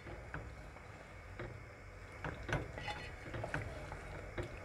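Boneless lemon chicken karahi frying in a pan, with a spoon scraping and clinking against the metal at irregular moments over a steady low frying hiss, fairly quiet and close.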